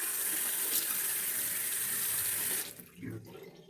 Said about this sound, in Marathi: सो सगळ्यात पहिली गोष्ट म्हणजे चेहरा छान धुवून घ्यायचा.